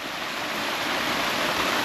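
Spring water gushing out of a hillside into a small stream, a steady, close, full rushing wash with no pauses and no voices.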